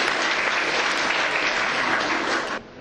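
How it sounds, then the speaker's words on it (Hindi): Audience at a Hindi poetry gathering clapping for the next poet, a dense steady round of applause that cuts off abruptly near the end. "अगर आप मुझे सुनना चाहते हो तो एक बार ताली ठीक से बजा दीजिए"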